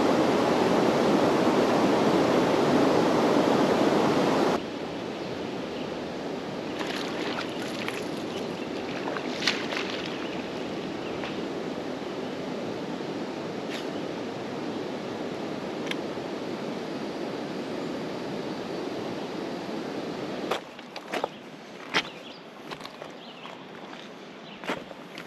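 River water in the Ozarks flows as a loud close rush for the first few seconds, then continues as a softer steady wash with scattered splashes and clicks, no voices.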